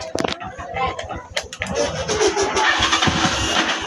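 Car engine starting after a jump-start with the cable clamped to the battery negative, a short cranking chatter catching into a loud revving idle, with a voice speaking briefly at the start.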